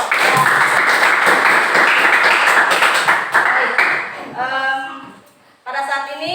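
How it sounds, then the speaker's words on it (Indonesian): Classroom applause for all the student groups at the end of a lesson, a dense, steady clapping for about four seconds that fades out, followed by a teacher speaking. "berikan tepuk tangan untuk semua kelompok"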